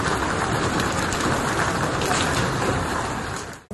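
Heavy, dense torrential rain from a storm in Spain pours down in a steady roar, close and loud, before cutting off abruptly at the end.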